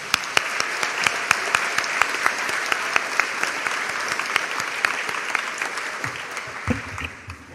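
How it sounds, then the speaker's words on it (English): Sustained applause from a large audience at a college graduation ceremony, steady clapping that fades out near the end. "Let's give them a hand clap."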